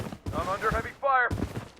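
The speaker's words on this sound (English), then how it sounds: "I'm under heavy fire." Rapid gunfire bursts in the Blood Strike shooter game crackle in quick succession, with a short tonal alert sounding midway through and the firing resuming right after.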